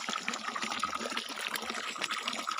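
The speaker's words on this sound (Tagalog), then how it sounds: "Ito ay pure living water." Cold, clear spring water flowing at Tinugdan, a steady continuous gush and trickle filling the whole moment at moderate level, with no voices over it.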